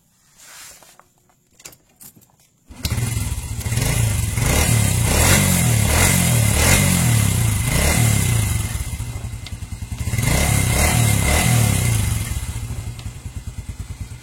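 A few thuds and clicks, then an older Honda Revo motorcycle engine fires up and idles steadily at close range, with a slight rise in revs toward the end.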